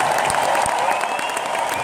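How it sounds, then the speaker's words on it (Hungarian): Large arena crowd applauding a children's choir at a concert, a loud, continuous roar of clapping that stays even and sustained throughout, with no voices standing out. "Egy nagyon nagy tapsot kérek!"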